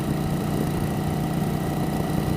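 A 1988 Yamaha XV1100 Virago motorcycle's engine idles steadily, a loud, close, continuous low rumble with no pauses and no voices.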